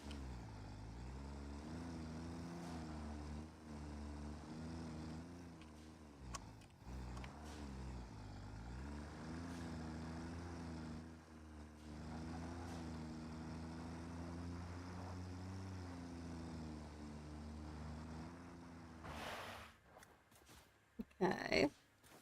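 A tractor engine in a video game drones steadily with a low, layered hum whose pitch rises and dips as it moves, ending in a few short, louder bursts.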